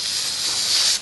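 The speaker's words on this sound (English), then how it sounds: "I'm going to spray paint this silver inside and outside." Silver spray paint hisses from an aerosol can onto a small plastic bottle cap, one short continuous close spray that stops abruptly.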